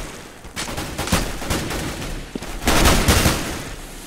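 Sustained gunfire in a competitive shooter video game match, overlapping shots and rapid bursts building to a louder cluster near the end, with no voice over it.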